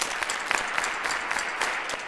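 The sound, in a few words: audience clapping along to a count of four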